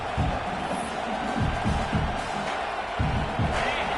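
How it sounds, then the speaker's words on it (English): A stadium crowd in a football video game on a fourth down, a steady broad roar of cheering that stays in the background while a voice talks over it. "this crowd trying to help this defense rise to the occasion"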